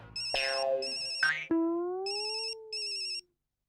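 A phone ringtone plays electronic chirping bursts in a repeating pattern, with a short tonal melody in between, fairly clear and close.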